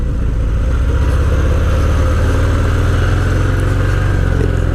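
A Harley-Davidson Fat Bob 114 motorcycle engine pulls hard while riding, a loud, continuous low rumble with throbbing pulses and rushing wind, no talking.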